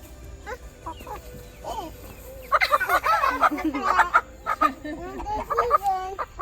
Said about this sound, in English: That's chicken. You got your chicken.